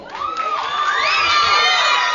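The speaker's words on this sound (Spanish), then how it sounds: "Y un fuerte aplauso para la número 5." A crowd at a beach-season beauty queen pageant in Vinces cheers loudly with high-pitched shouts and whoops, a dense, bright roar that swells throughout.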